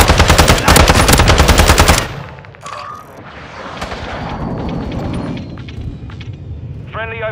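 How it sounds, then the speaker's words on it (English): Gunfire from an automatic weapon rattles loud and fast in Call of Duty MW2, then the burst gives way to a grenade blast and a lingering rumbling aftermath, with a short electronic beep near the end. "Grenade out!"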